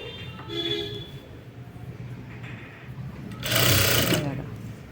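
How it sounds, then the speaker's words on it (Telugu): A sewing machine stitches piping onto cloth in a steady, fairly quiet rattling run that surges briefly louder, with someone talking over it. "ఇలా నీట్గా స్టిచ్ చేసుకుంటూ రావాలి"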